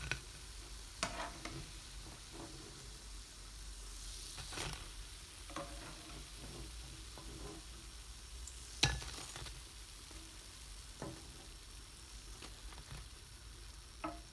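Masala for a lentil-ball curry frying in a pan, a quiet continuous sizzle broken by scattered stirring scrapes and light clinks of a spoon against the pan.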